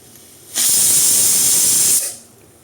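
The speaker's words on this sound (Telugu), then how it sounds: "విజిల్ పెట్టుకొని ఒక 2 విజిల్స్ వచ్చే వరకు దీన్ని ఉడకనిద్దాం." A pressure cooker whistle on a stovetop with a spinach masala curry inside lets out one loud, steady hiss of escaping steam lasting about a second and a half, then fades.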